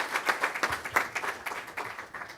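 An audience applauds a guest speaker at a religious gathering. The clapping is faint and somewhat distant, with a rhythmic, uneven patter of many hands over a short span.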